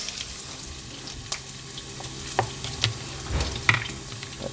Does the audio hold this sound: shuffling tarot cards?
no